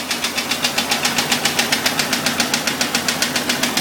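Steady, fast metallic knocking comes from a Jeep Cherokee 4.0L engine idling with a broken piston skirt, close up and continuous with no voices.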